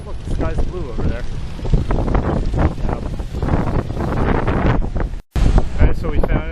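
Gusty wind roars across the microphone outdoors beside the river in London, loud and continuous with a brief dropout, while people talk over it.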